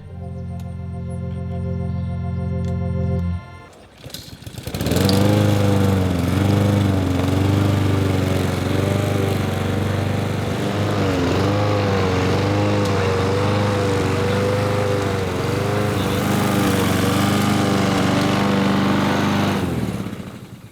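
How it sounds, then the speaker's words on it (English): A lawn mower engine starts after a steady idle, then runs loudly and close while mowing grass, its pitch wavering with load for about sixteen seconds before cutting off. "you see how I mow grass now"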